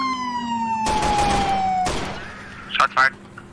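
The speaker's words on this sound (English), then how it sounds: "Shots fired." Gunfire in the video game ARMA 3 rings out as a sustained rapid burst and then two short sharp shots, while a siren wails steadily underneath.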